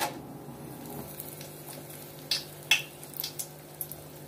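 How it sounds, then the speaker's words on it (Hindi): Dry red chilies hit hot oil for a bhog khichdi tempering, giving a soft, steady sizzle with scattered crackles and pops building over a few seconds, no voices. "जैसे सूखी लाल मिर्च हल्की सी भून जाएगी"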